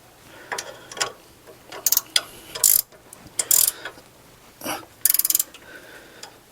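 A ratchet tightens bolts on a C10 front suspension during a QA1 install. Close, crisp bursts of rapid clicking come in short irregular runs with brief pauses and small metallic knocks between them.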